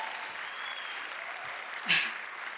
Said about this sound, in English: So if you thought we looked beautiful, can we have a round of applause for Bijal?